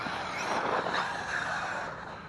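A Traxxas Maxx 3s RC car with a wide or narrow track drives fast through turns. Its motor whines steadily with some tire scrub, close by and loud, and no one speaks.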